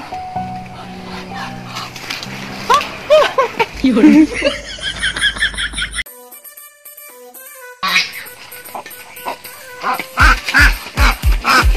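Ducks quack repeatedly in short, close bursts while people talk and laugh nearby.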